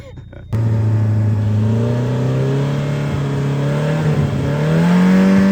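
A drift car doing a burnout: a loud, close engine holds a steady high rev that climbs slowly in pitch for several seconds after a brief quiet start.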